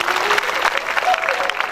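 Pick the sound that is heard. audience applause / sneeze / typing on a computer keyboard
audience applause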